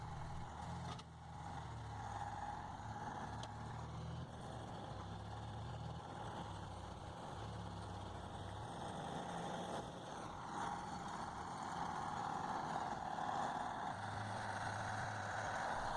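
A Belarus tractor stuck in soaked, muddy soil, its heavy diesel engine droning low and steady, swelling a little louder toward the end as it strains.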